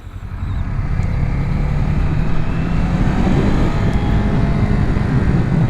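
Kawasaki Z400 motorcycle idling in neutral, a steady low engine rumble that holds close and loud without pause, with outdoor noise around it.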